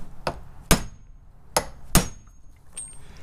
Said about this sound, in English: We're going to hit this, thereby forcing that bearing upwards.